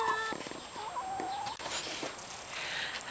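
A small flock of backyard hens gives soft, scattered clucks and brief calls against a quiet outdoor background, fairly faint and intermittent.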